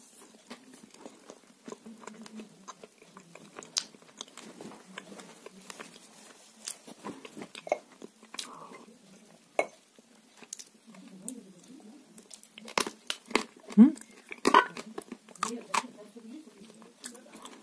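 Close, crisp crunching and chewing of dry cookies with cream, irregular bites growing louder toward the end, with occasional soft speech.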